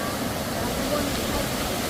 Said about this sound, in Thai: เราจะเดินเข้าไปใต้น้ำตกตรงนั้น